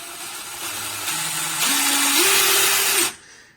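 A DeWalt Atomic 20V MAX 3/8-inch cordless impact wrench spins freely as its variable trigger is squeezed harder, the motor whine stepping up in pitch in stages before cutting off abruptly, close and loud with no talking.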